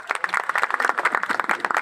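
A crowd at a community charity event clapping together, brisk overlapping hand claps in a quick uneven patter at moderate volume.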